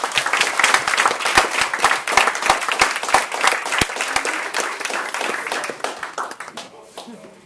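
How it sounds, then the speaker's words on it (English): A Stanford engineering entrepreneurship panel audience breaks into loud, close applause, dense overlapping hand claps with sharp individual claps standing out, fading near the end. "So a round of applause."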